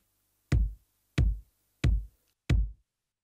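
Four evenly spaced kick drum hits, two kick samples layered together, combining a deep, fat low thump with a brighter textured click on top, each decaying quickly, alone with no voices.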